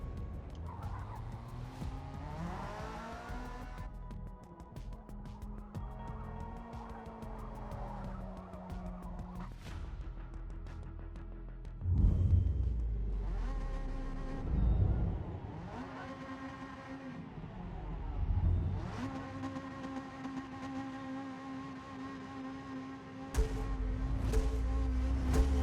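2021 Hyundai Elantra touring car lapping Catalunya in Forza Motorsport: a revving engine climbs and drops through gear shifts, with recurring tire squeals and skids through corners, close and loud throughout.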